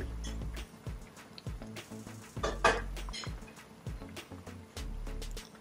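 A metal pot lid clanks and rattles as it is lifted off boiling chap chai soup, with a few sharp clinks of cookware amid quieter kitchen clatter.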